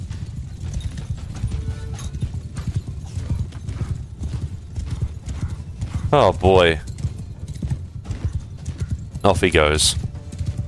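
Cavalry horses gallop in Mount & Blade 2: Bannerlord, a steady rapid clip-clop of hooves running throughout, with a short horse whinny or neigh breaking out twice and a voice talking over the action.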